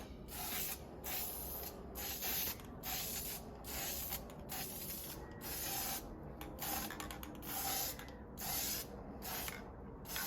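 Light coats of spray paint applied to a vintage York weight plate: repeated short aerosol hisses in an irregular rhythm, close and fairly quiet, with brief pauses between bursts.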